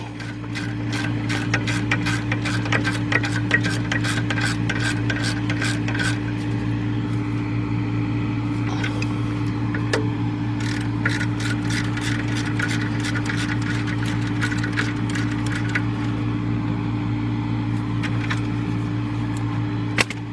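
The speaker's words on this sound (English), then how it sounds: "Then go with the ratchet" A ratchet tightens bolts on the rear brakes of a 2000 Jeep Grand Cherokee Laredo, giving bursts of fast, sharp clicks over a steady low engine-like hum, with a pause near the middle of the clip.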